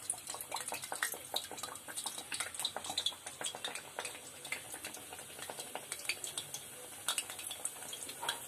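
Luchi puri dough fries in hot oil in a wok, giving a continuous close sizzle with rapid crackling bursts and pops, fairly quiet and without speech.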